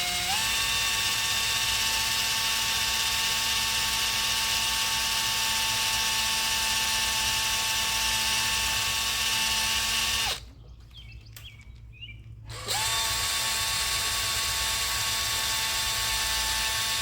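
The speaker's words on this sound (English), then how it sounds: "These things are no fun to drill." A power drill bores steadily into a cylinder head, a loud sustained whine that cuts out for about two seconds and then resumes at the same pitch.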